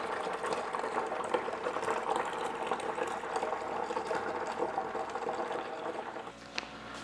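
A small liquid pump pushes freshly brewed New England IPA wort into a fermenter, giving a steady, continuous whir and watery rush at moderate level, with a brief change near the end and no talking.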